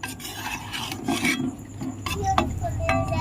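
Flour-and-sugar sweets are stirred in a pan with the gas turned off, giving close, rasping scrapes and rubs of a utensil against the pan, with a few light metallic clinks.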